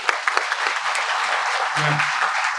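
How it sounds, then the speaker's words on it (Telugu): A crowd at a political event claps to welcome someone speaker to the stage. The applause is steady and continuous throughout, with a short low murmur near the middle. "అందరూ చప్పట్లు కొట్టి వేదిక మీదకి ఆహ్వానిస్తా ఉన్నాం"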